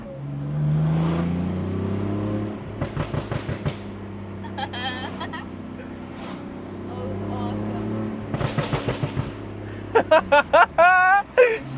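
Tuned BMW M4 F82 engine revving in bursts, with sharp crackling exhaust pops and bangs at about 3, 8.5 and 10–11 seconds over a steady rumbling idle; people talk at times.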